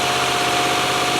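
A 1997 Land Rover Discovery 1 engine idles steadily close by, a continuous low mechanical hum and rumble running with no coolant circulating.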